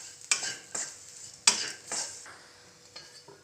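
Jackfruit seed poriyal being stirred in a pan, a few crisp scraping strokes of a spoon against the metal with a light sizzle underneath, close and unhurried, no voices.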